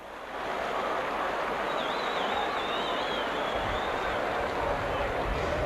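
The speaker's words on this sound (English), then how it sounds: "Good applause from the Warrington fans." Warrington rugby league fans applauding in a stadium crowd, a steady broad wash of clapping and crowd noise held for several seconds, fairly loud with a faint whistle running through it.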